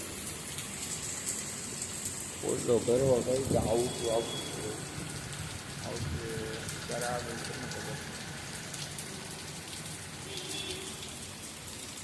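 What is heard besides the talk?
heavy rain falling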